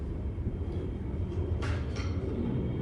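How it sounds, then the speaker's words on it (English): A light-rail train passes near an LRT station, a low continuous rumble with faint brief squeals of wheels or brakes above it. "Don't mind the train passing by, we are very near an LRT station."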